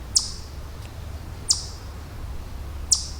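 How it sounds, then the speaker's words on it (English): Outdoors, a bird gives three short, sharp chirps spaced evenly about a second and a half apart over a steady low background rumble. "Can you hear that bird?"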